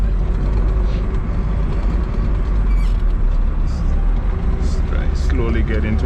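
A tuned car pulls in second gear, giving a steady, loud, low engine rumble from inside the cabin with a few faint higher tones and a voice in the background.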